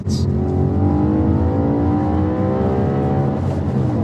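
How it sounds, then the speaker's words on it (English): An Audi RS4 (B8) car engine revs hard and climbs steadily in pitch, holding loud and close as it reaches the rev limiter. "Oh, I hit limiter, sorry."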